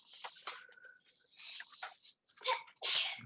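A single sharp sneeze from a child sitting beside someone giving a lecture, with a smaller burst just before it, fairly close and loud over a quiet room with some soft speech-like sounds.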